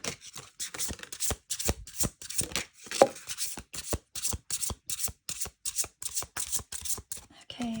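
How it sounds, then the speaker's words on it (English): Rapid riffle shuffling of a tarot card deck, repeated bursts of crisp flapping card noise at a steady rhythm, close up, with no talking. "I'm going to put all of these ones back in and we will shuffle"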